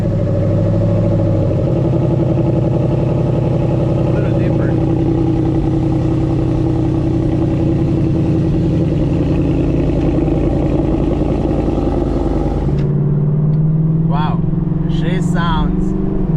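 A Ford Mustang GT's V8 rumbles loudly through new mufflers and exhaust, a deep steady throb with rising revs held for several seconds before cutting off, followed by brief talking close by.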